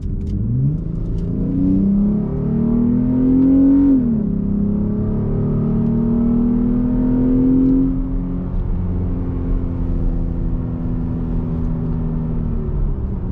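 A Jeep V6 engine accelerates during a drive, a loud steady revving drone that climbs in pitch, dips briefly around a shift, then climbs again before settling into a sustained cruising hum, with no talking.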